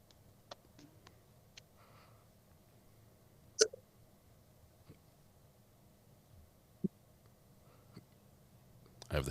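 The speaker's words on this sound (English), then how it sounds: "I have the hiccups, sorry." Hiccups break out in a quiet room during a courthouse session, sounding as a few faint, sharp catches spread irregularly over several seconds against a low background hum.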